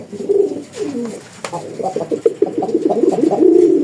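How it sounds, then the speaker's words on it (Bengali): A gola pigeon cooing close by, a loud run of throaty rolling coos that rises and repeats across the whole stretch, alone without speech. "এই জায়গায় একজন গোল্লা কবুতর আছে, দেখেন খালি ডাকটা শোনেন একটু"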